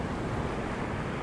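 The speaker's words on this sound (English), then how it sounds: "I've got the waves coming along, which is quite nice." Ocean waves roll onto the shore near a castle on a windy coast, a dense, loud, continuous roar of surf mixed with wind rumble, no voices present.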